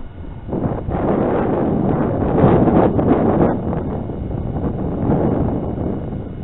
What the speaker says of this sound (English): let's see what the wind's doing here. About 15 miles an hour or higher.